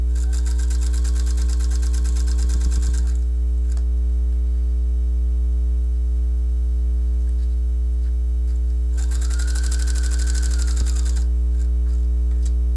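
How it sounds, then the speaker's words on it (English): A sewing machine stitches a garment, a women's top, in two short bursts of fast whirring separated by a pause. A steady electrical hum runs underneath throughout. "as long as you sew into the garment, pivot, and then go to the other direction"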